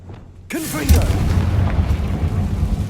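In Hogwarts Legacy, a Confringo fire spell goes off as a sudden deep boom. A rumbling, crackling blast follows and carries on for a couple of seconds, with a brief voice heard just as it fires.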